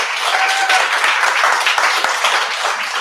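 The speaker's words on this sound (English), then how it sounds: "Massive round of applause." A room full of people at a business networking event gives a big round of applause, steady dense clapping close and loud throughout with no pauses.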